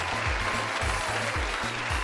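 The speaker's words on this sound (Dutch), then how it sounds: "Mag ze een applaus voor de participatie?" An audience applauds steadily at a church quiz event, a continuous wash of clapping with no voices over it.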